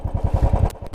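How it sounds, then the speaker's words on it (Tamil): A Royal Enfield Classic 350 motorcycle runs close by, its single-cylinder engine thumping in a steady, even rhythm of low pulses, with no voices over it. "கிளாசிக் 350 ஓட்ட போகிறோம்."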